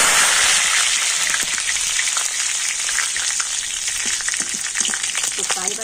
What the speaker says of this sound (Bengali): আর এবার আমি কারি পাতা ভেজে নেব